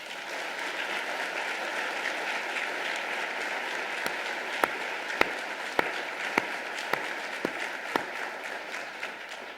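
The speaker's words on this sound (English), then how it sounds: "I do want to give a collective round of applause to our incredible first responders" Sustained audience applause for first responders at a mayor's State of the City address: a dense wash of clapping, joined midway by a few louder, regularly spaced claps close by.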